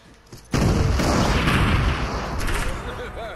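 Gunfire rattles through a video game battle, a dense sustained barrage of booming shots and blasts that starts abruptly and rolls on continuously, loud and close.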